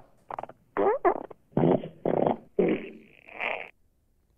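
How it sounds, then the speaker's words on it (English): Recorded coworker fart sounds played back one after another, a string of loud, sputtering bursts of varying length with short gaps, ending in a long drawn-out squeak. "a couple of the people I work with really enjoy sending me videotapes of them farting"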